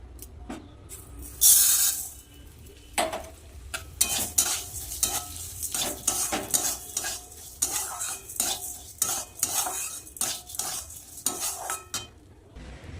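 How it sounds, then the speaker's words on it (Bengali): Lentils frying in a little leftover oil in a wok, stirred with a metal utensil: repeated scraping clatters and clinks over a continuous sizzle, close and fairly loud, with no talking. "তেলের মধ্যেই ডালটা ভেজে নেব"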